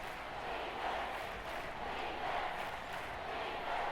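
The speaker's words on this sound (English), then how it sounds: "And the crowd already into it here in Atlanta." A stadium crowd in the video game Madden NFL 23, at an Atlanta game, gives a steady, distant roar of cheering that holds at an even level, with no voices on top.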